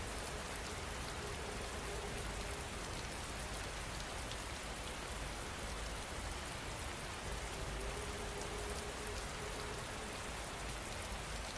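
Steady rain falls at night in a continuous dense patter of drops on surfaces, a constant broadband wash that holds even and unbroken throughout with no voices.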